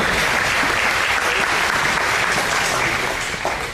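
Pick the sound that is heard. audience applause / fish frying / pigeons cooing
audience applause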